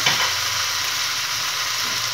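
Potato pieces fry in a pan with spices, giving a constant, even sizzle and hiss for a couple of seconds with no voices.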